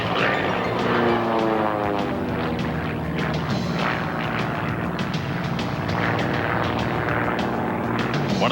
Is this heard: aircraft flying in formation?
yes